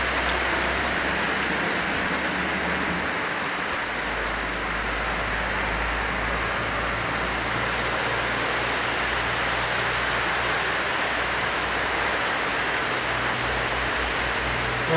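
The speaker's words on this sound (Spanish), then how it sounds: "Ahorita se va a escuchar mucho ruido, pero es que está lloviendo" Steady heavy rain pours down, a dense hiss of drops drumming on surfaces without pause, with a low rumble underneath.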